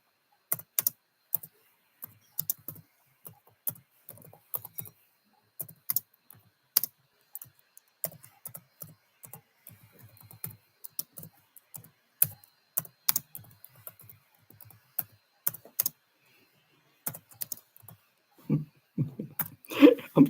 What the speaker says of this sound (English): I'm typing with my tongue out